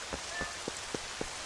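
Rain falls steadily in a graveyard in the video game The Legend of Zelda: Twilight Princess HD, a soft continuous hiss with a few faint, regularly spaced drip-like taps on top.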